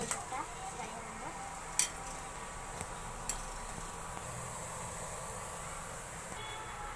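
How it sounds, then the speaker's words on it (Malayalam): Soya chunks frying in oil give a faint, steady sizzle with a few soft clicks and scrapes, while a voice speaks quietly now and then. "ഇത് ഫ്രൈ ആവുന്നുണ്ട്"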